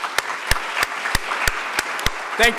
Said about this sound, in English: Let's have a round of applause for the others.